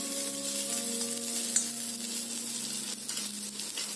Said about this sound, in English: Onion, saute the same for a minute.